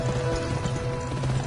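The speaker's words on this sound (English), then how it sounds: "We're just learning about riding a horse." Horse hooves clip-clop in a quick, steady rhythm while riding in the Western video game Gun, close and moderately loud.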